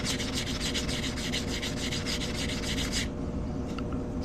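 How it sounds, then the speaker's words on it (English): A coin ring blank is sanded in steady, rapid back-and-forth strokes, a loud continuous gritty rasp close up that stops abruptly near the end, with no talking. "I'm just sanding these down before we start stretching it out"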